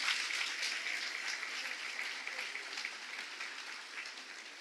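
Steady applause from a church congregation, a dense wash of clapping that holds for several seconds at moderate distance, with no voices over it.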